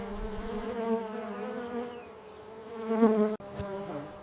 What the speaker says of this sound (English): Bees play a vital role in pollinating these flowers.